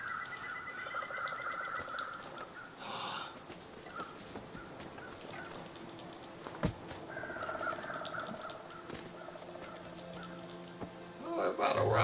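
Birds call out in the snowy wilderness of the survival game The Long Dark, with rabbits nearby: faint, scattered chirps over a steady outdoor hush, growing brighter and busier near the end.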